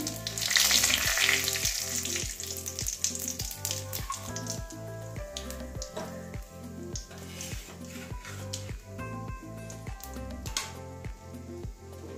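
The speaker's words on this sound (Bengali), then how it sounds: "পেঁয়াজটা ভালো করে ভেজে নেবো" Onions sizzle in hot oil in a pan seasoned with whole cumin and a bay leaf for an egg and cauliflower curry. A continuous loud crackling fry runs throughout, with a steady rhythmic scraping underneath.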